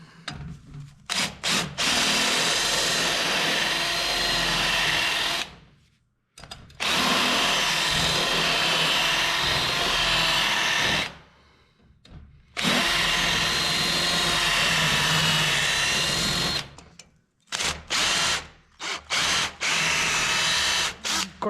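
Power drill boring out three rivets on a 1967 Chevelle window crank, loud broadband whine in three sustained bursts of about five seconds each, separated by brief pauses, with no talking.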